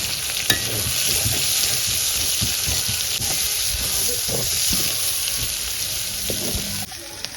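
Sliced onions fry with beef heart in a pan, a loud continuous sizzle with repeated scraping and stirring strokes of a spoon, no one talking.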